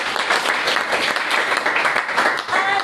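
Audience applause at a startup pitch and networking event in a coworking space, a steady, loud wash of clapping filling the whole moment with a slight dip near the end.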